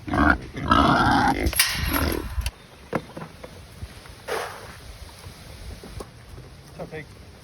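Farm pigs grunting and snuffling up close, with a burst of loud rough grunts at the start followed by scattered fainter grunts and rustling.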